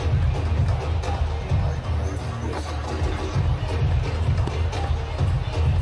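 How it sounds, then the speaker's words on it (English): Crowd noise at a Nepal cricket match after a six, a steady dense roar of many voices heard from a distance, sustained and fairly loud with no distinct individual words. "Crowd are enjoying it"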